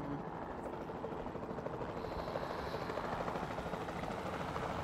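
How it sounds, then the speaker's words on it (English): The Capture Team helicopter in Jurassic World Evolution gives off a steady, faint rotor drone that holds unbroken throughout. "the sensible thing is to take a Capture Team helicopter. You can track it from the air."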